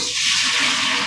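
Running water rinses potatoes in a strainer, a steady close hiss of flowing water throughout with no talk.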